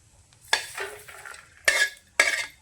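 Masala spices frying in a pan for a spicy village-style goat mutton curry, with a faint sizzle broken by three sharp scraping stirs, each a loud burst of metal on pan, close by.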